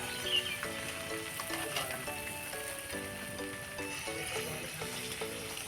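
Palm fritter batter fries in hot oil in a wok, giving a steady crackling sizzle throughout, with a faint melodic tune playing underneath.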